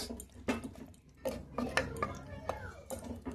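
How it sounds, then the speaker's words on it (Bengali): Metal lid settling onto a cooking pot of meat curry with added water: several close clanks and scraping knocks of metal on metal, irregular and fairly quiet, with soft kitchen background noise. "এবার ভালো করে চাপা দেব।"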